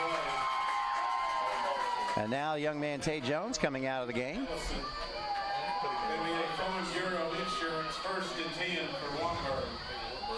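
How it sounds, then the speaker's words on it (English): A home crowd at a Rockwood high school football game against Wartburg cheers loudly and steadily, a broad roar under a public-address announcer's voice, with whoops rising through the middle. "Rockwood crowd went crazy when Jones entered the game"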